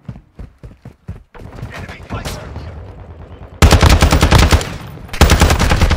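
Rapid gunfire from Call of Duty, starting as scattered single shots and swelling into loud, dense automatic bursts that fill the back half, with a voice talking faintly beneath the early shots.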